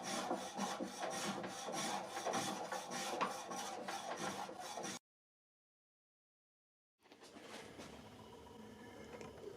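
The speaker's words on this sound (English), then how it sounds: "I had a little bit of planing and sanding to get them squared off" Hand planing and sanding on the ends of a figured maple slab in a wood shop, a steady rasping, scraping rub that runs for about five seconds, drops to silence for two, then resumes more softly.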